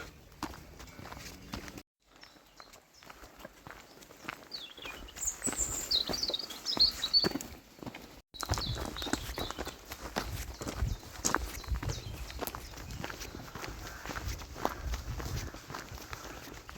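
A horse walks along an outdoor route, its hooves clip-clopping in a steady rhythm at close range, with birds faintly audible and a short quiet gap partway through.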